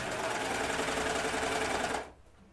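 A serger runs fast and steady while sewing elastic onto a waistband, a loud close mechanical whir that cuts off sharply near the end, leaving quiet.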